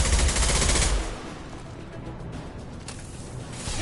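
Gunfire in the Mass Effect video game: a burst of rapid weapon fire at the start, then fainter scattered shots and battle noise at a moderate distance.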